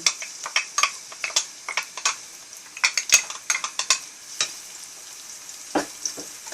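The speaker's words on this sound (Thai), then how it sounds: "ผัดพริกให้หอมนะคะ" Chilies stir-frying in hot oil in a wok, with sharp spatula clinks and scrapes against the pan in a quick irregular rhythm over a light sizzle, close and without talk.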